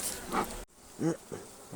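Honeybees crowd an open brood frame pulled from a hive in November, giving a faint buzzing that rises in short swells while someone speaks nearby.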